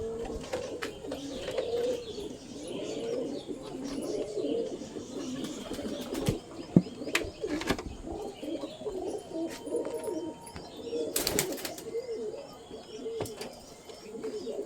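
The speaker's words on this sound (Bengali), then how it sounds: "পুরো অ্যাক্টিভ পায়রা।" Several pigeons coo in low, throaty, repeated calls nearby, with occasional wing flaps and faint chirps mixed in, going on continuously throughout.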